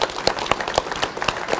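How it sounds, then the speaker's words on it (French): Audience applause for the armed forces at a Côte d'Ivoire independence anniversary celebration in France, steady clapping from a crowd with a few sharper claps standing out, filling the whole moment without speech. "applaudissons nos forces armées pour le sacrifice de leur vie"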